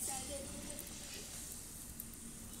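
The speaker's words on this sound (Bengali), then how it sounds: "বন্ধুরা দেখুন সেই ব্যাটারে বাকি আলুগুলো আমি এরকম করে ভেজে নেব।" Batter-coated potato slices fry in hot oil for potato chips, giving a steady, dense sizzle and crackle heard close up, with faint kitchen background noise.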